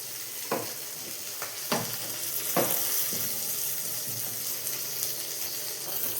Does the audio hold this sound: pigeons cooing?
no